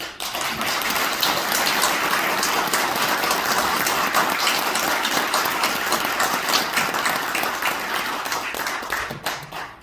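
Sustained, dense applause from an audience at a political talk event for a returning guest representative, steady and full for nearly ten seconds before tapering off at the end.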